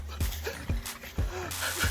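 A dog whimpers softly in a few short, high whines at a rural pig chase, with outdoor noise and thumps between the cries.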